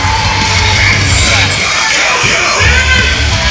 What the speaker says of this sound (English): A little mixed reaction from the crowd as he makes his appearance.